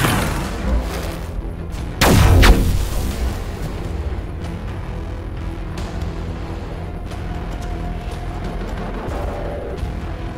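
Gunfire and artillery in the Warhammer 40,000: Battlesector strategy game, with one heavy booming blast early on followed by a steady rumble of distant battle noise and scattered shots.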